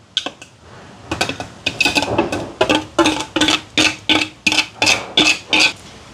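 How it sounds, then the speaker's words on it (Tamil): A spoon scrapes and clinks around a bowl as mango pulp is folded into a pudding mixture, in a steady series of quick, bright strokes that grow regular and rhythmic. "சேர்த்துட்டு நல்லா கலந்து விடுவோம்."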